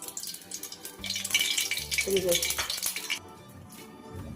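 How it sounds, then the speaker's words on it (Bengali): Mustard oil is poured into a hot wok for frying fritters, giving a brief rushing, splashing burst of about two seconds mixed with light metal clatter, then settling to a quieter hiss. "কড়াইটা গরম হয়ে গেছে, দিয়ে দিচ্ছি সর্ষের তেল।"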